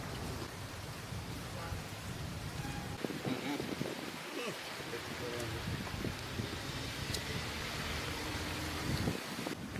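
Heavy rain pours down outdoors in a Tamil village, a dense, continuous hiss of falling water with scattered louder drops and splashes and faint voices mixed underneath.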